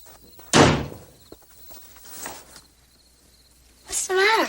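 A house front door slams shut with a single loud, sharp bang early on, followed by quieter movement and a voice speaking near the end.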